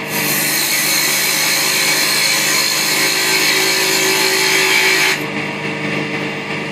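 A wood lathe turning a snowman Christmas ornament gives a loud, steady whirring rub of the tool against spinning wood, which eases off and drops in level near the end.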